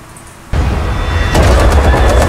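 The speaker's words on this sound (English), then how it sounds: "We got the terrorist shooting" Sustained gunfire from a terrorist shooting in Call of Duty: Modern Warfare, breaking in abruptly as a dense, loud wash of shots and growing heavier partway through with rapid bursts.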